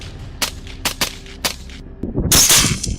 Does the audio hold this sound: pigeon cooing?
no